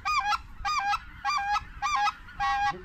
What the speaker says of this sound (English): there's a single goose coming right over our heads